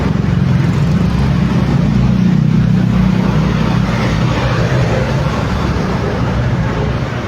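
Heavy road traffic on the Ungka flyover in Pavia, Iloilo, on a weekday morning: a loud, continuous low rumble of car and bus engines with broadband road noise that stays steady throughout.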